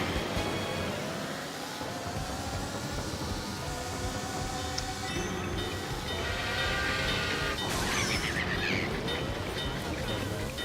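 A train rumbles along the track in a kart racing video game, a continuous loud roar with horn-like tonal sweeps, heard over game engine noise and music.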